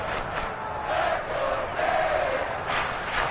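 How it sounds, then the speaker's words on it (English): A stadium crowd in the video game Madden 23 gives a low, rolling roar, swelling in waves as a big third down in an NFL game approaches, with broadcast commentary faintly present. "The crowd getting into it as we come up on a big 3rd down."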